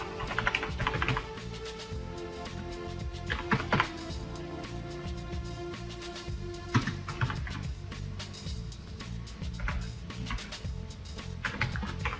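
Fast typing on a computer keyboard while entering a Windows 7 shortcut command, dense, continuous key clatter close up with a few heavier thumps, over a constant background hum.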